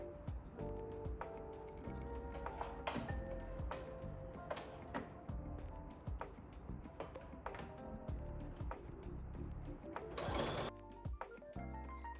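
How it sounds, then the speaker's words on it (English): A sewing machine sews gathers into a mini dress, a soft but steady mechanical clatter running the whole time without speech. "here I'm just sewing really carefully, sort of rearranging my gathers as I go"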